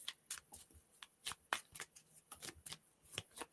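Playing cards being shuffled by hand in a quiet room, a series of short crisp riffling bursts in uneven rhythm, close and fairly soft.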